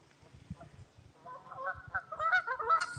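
Geese honking near a small boat dock, growing from scattered low calls into a loud, overlapping chorus of nasal honks in the last half.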